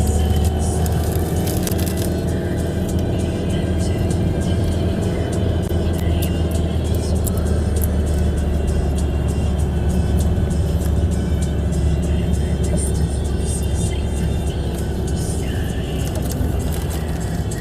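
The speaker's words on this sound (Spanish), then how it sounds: "Estos camiones pasan por aquí." Steady traffic of trucks and cars passing on a mountain road in Andorra, a continuous low rumble with tire and engine noise throughout, fairly loud and close, with no clear gaps between vehicles.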